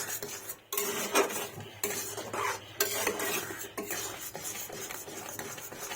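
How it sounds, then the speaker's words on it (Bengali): A spoon scraping and stirring boiled dal in a metal pot while making bottle gourd (lauki) dal, with repeated clinking strokes and a low sizzle beneath, close and fairly loud. "একটু নেড়ে নিলাম"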